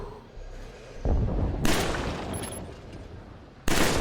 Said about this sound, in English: Try shooting those far targets in the range.